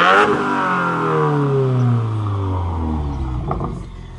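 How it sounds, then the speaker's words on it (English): A 2017 Subaru WRX with a custom quad exhaust revs hard, with a loud close engine note falling away as the turbo spools and whooshes, and a few crackles near the end. "You can hear the turbo spooling a little bit for the quad exhaust."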